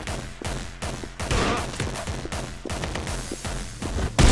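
Rapid gunfire in a video game, dense overlapping bursts and single shots in quick succession, loud and close throughout with no clear talk.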